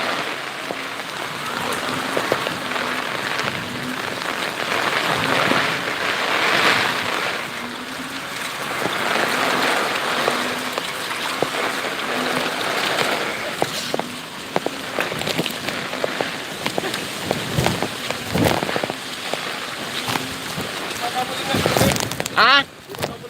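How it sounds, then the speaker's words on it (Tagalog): Typhoon wind gusting and shifting direction, with steady rushing and rain-like noise swelling and easing throughout, a few sharper knocks near the end, and voices talking faintly underneath. "paiba-iba po ng direksyon ng hangin"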